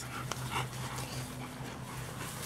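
A dog whimpers softly with a steady high whine over breathy panting, close by and continuous for a couple of seconds, with no talking.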